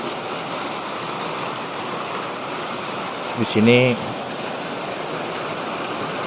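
Steady rain falls at night in a Borneo rainforest, a dense unbroken hiss from start to finish, with a voice speaking briefly partway through.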